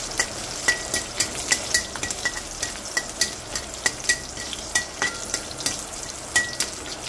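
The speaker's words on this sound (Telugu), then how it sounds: "ఎండుమిరపకాయ, పచ్చిమిరపకాయ, చూసారు కదా ఇది చిన్న వేగుతూ ఉంటుంది" Dry and green chillies sizzle and crackle in hot oil, with sharp frequent pops and spoon-stirring scrapes over a steady frying hiss, close and fairly loud.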